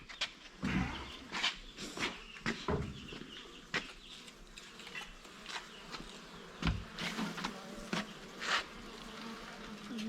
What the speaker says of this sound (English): I like that sound of buzzing.